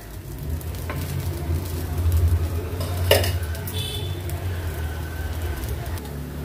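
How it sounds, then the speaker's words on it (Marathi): Bread paneer rolls fry in ghee over a low flame with a soft, steady sizzle, and a spatula clinks once against the pan midway. A faint low hum sits underneath. "साइडनी असं तूप सोडूया आणि उलटपालट करून क्रिस्पी होईपर्यंत हे व्यवस्थित आपल्याला फ्राय करून"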